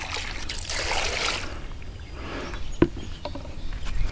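Water dumped from a sprayer container onto rocks outdoors, a soft splashing rush early on followed by quieter trickling and a sharp knock, fairly faint.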